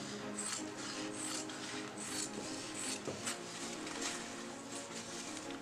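Scissors cut through fabric being prepared for a collar placket, giving a steady close rasping and slicing texture with repeated snip bursts for several seconds and no voices.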